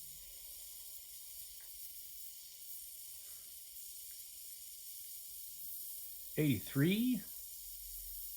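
Metal fizzes steadily in hydrochloric acid, a faint continuous hiss that carries throughout, briefly interrupted near the end by a short spoken number.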